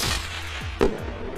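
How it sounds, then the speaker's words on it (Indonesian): A single sharp sniper gunshot in a film rescue mission, a loud broadband crack near the middle with a short tail, set against low rumbling background and scoring. "salah satu pasukan Eagle One tertembak oleh sniper dari para pemberontak"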